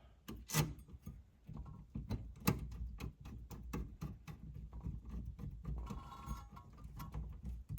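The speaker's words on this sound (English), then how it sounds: "you're gonna take your 3 screws and we're going to install them" Screws are threaded in by hand while fitting a turn signal switch on a classic GM Pontiac, giving quiet close-up clicks, scrapes and small rattling taps in an irregular rhythm.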